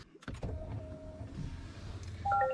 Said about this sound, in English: You can hear my seat moving forward